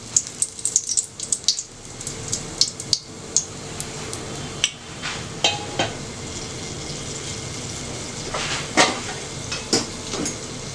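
Cinnamon, cloves, cardamom and two bay leaves sizzle in hot oil for chicken biryani, a soft frying crackle under sharp intermittent spoon and pot clinks, close and fairly loud, no talking.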